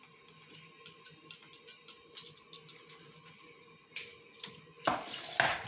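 Chopped onions cooking in ghee are stirred in a pot, a spoon clinking against the metal in a steady rhythmic tapping, close and fairly quiet, ending in a louder sizzling scrape.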